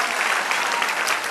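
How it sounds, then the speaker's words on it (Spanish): Church congregation bursts into a short, dense round of hand clapping, steady and fairly loud throughout the brief moment. "Dale aplauso."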